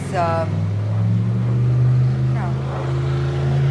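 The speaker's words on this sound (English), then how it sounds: "the sounds that you hear aren't traffic. It's all these the speedboats coming up and down." Speedboats running up and down the East River, a steady low engine drone close by and continuous, with a person talking over it.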